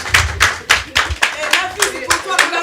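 Audience at a Business and Brunch entrepreneurship gathering claps for the event host, loud irregular bursts of hand claps close by, with a voice mixed in.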